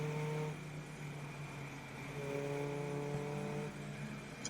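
Race cars lapping the Oulton Park circuit during a trackday championship race, a steady engine drone with shifting harmonic tones as cars pass at mid distance, continuous throughout.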